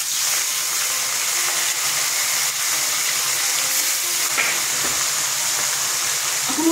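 Katla fish fry in hot mustard oil with a loud, steady sizzle and hiss, close by and uninterrupted. No one speaks over it.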